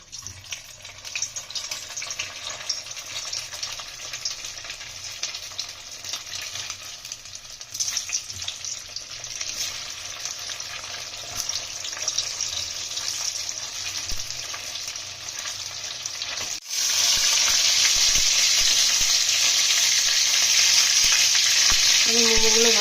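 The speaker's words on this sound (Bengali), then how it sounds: "আমাদের তেল বাটার দুটোই গরম হয়ে গেছে আমরা মোমোগুলো দিয়ে দেবো" Chicken momos fry in a kadhai of hot oil and butter with a loud, steady close-up sizzle that holds for the whole stretch, then jumps louder and brighter near the end.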